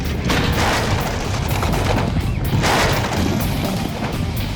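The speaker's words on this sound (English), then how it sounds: "One magnificent, made-to-order apartment explosion." Gas-filled apartment set blowing up in a staged explosion test, a loud sustained roar of blast and crackling debris filling the whole stretch with dense broadband noise and two surging peaks, no talking.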